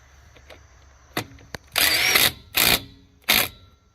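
An impact wrench tightening a lug nut through a VEVOR 1/2-inch drive impact socket: a few faint clicks, then three loud, close hammering bursts of about half a second each, with short pauses between them.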